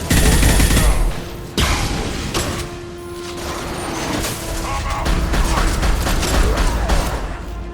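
Rapid bursts of gunfire crackle through a firefight in the video game Mass Effect 2, loud at first, then easing before building again over a mechanical background hum.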